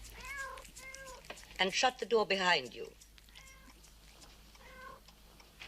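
Several cats meow and caterwaul, with a burst of loud, strained yowls in the middle and softer mews before and after, mixed with someone speaking in a monster-movie show.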